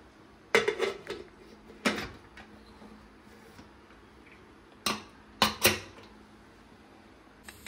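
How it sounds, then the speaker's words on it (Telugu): A pressure cooker lid being fitted and closed over chicken pulao, heard as a few sharp metallic clanks and knocks spaced apart, close and fairly loud against a quiet kitchen background. "మనం కుక్కర్ లిడ్ క్లోజ్ చేసేసుకోవడమే"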